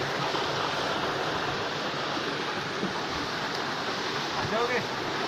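A small waterfall pours steadily, a dense continuous rushing hiss of falling water heard close and uniform throughout, with faint traces of a voice barely surfacing beneath it.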